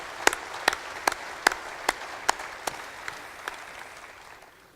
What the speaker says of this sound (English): So big round of applause for these guys